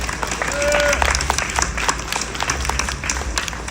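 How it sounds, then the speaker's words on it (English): Audience applause at a Sonic live event, steady clapping from a crowd that swells in the first second and then holds, with scattered louder claps throughout. "All right, round of applause, please."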